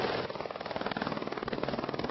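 A helicopter ferrying food and water to mountain villages in Nepal thuds with rapid, even rotor beats over a steady engine whine, moderately loud and continuous, with no voices.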